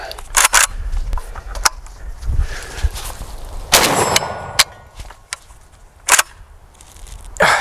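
A JTS M12AK semi-auto shotgun fires turkey loads in a quick string of sharp, loud blasts spaced unevenly across several seconds, with mechanical clatter between shots.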